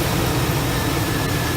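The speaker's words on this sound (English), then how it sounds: "Turn the engine on for me." A car engine runs steadily during fuel pressure testing, giving a constant close broadband hum and rumble with no clear start.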